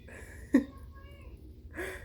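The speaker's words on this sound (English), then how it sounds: "look at this black cat" A black cat lets out one short, close meow, followed a little later by a softer, drawn-out call over a quiet room.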